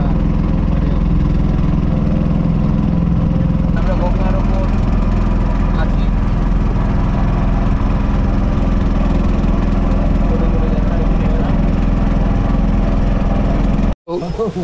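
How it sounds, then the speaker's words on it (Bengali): A boat passes on the river at Kahalgaon in Bihar, its engine a loud, steady drone that runs through the whole stretch before cutting out briefly near the end. "দুপুরে একটা নৌকা যাচ্ছে, বোঝা যাচ্ছে।"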